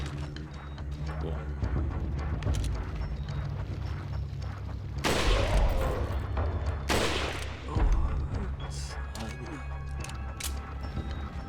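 Rapid Gatling gun fire and crashing impacts from the video game Resident Evil 4, a dense continuous barrage with louder bursts midway and no talk.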